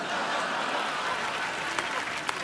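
A studio audience claps steadily on a Hindi comedy show set, dense continuous applause mixed with faint crowd murmur and a couple of sharper claps standing out near the end.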